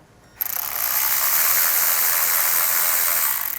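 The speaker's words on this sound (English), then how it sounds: "We're going to use a 10mm socket. We're going to go ahead and remove these screws." Ratchet fitted with a 10mm socket backing out screws on a Kia K5 GT or Hyundai Sonata N-Line during an intake install, a close, loud rapid clicking that starts abruptly and runs steadily.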